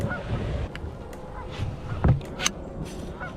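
Geese honking at a lake in early spring, several loud nasal honks scattered over a steady outdoor background with some wind rumble, the birds fairly close.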